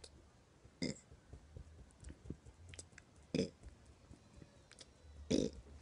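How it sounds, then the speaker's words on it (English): Soft burps from a reborn-style infant being burped, three short bursts spaced a couple of seconds apart, close and fairly quiet over a faint room background. "I thought you guys would see me burp her."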